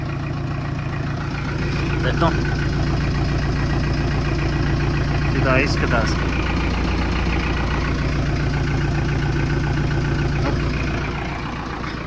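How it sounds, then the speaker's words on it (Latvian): A 1992 Peugeot J5 Europa 560 motorhome engine idles with a steady, low rumbling drone on its first start of the year after exhaust repairs, with someone talking over it. "Priekšā praktiski arī ir tikai tā motora kā tāda troksnis."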